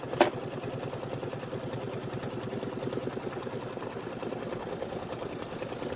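An embroidery machine stitching a tack-down runs in a steady, rapid mechanical whir of repeated needle strokes, continuous and fairly close, with one brief click at the start and no voices.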